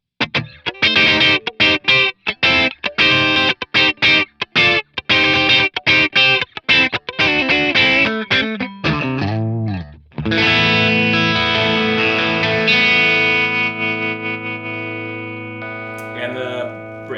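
Overdriven Yamaha RS620 electric guitar on the middle pickup plays quick, choppy strums, then lets a final chord ring out and slowly fade.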